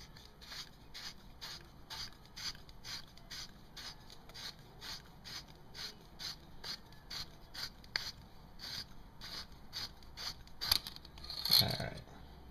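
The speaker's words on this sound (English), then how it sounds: "So what you want to do is unscrew the back." Threaded back cap of a Celsius MX2 airsoft CTW cylinder turned by hand, giving a steady run of soft repeated rasping clicks and creaks, each ratchet-like turn evenly spaced, with a brief louder scrape near the end; close and quiet, no talking.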